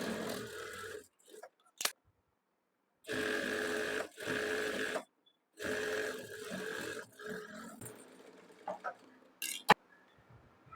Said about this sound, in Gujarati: હવે આ પટ્ટીને આપણે એક સાઈડથી ફોલ્ડ કરીને આની ઉપર સિલાઈ લગાડવાની છે